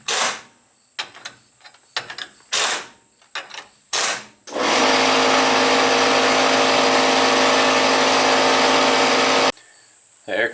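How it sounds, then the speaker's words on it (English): An air compressor runs in a home garage during a wheel hub bearing replacement on a 2001 Chevy S10. It starts after several short clanks and bursts, holds a loud, steady mechanical roar for about five seconds, then stops. "The air compressor's annoying, isn't it?"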